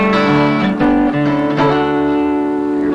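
A bluegrass-style acoustic guitar chord raised up the neck with a pinky added on the fourth string, ringing strums and a few shifting notes, close and sustained.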